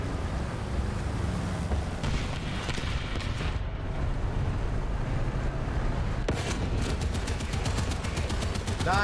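Sustained .50 caliber machine gun fire from War Thunder, a dense continuous roar of rapid shots mixed with engine and battle noise, loud and steady throughout with a burst of sharper crackling near the end.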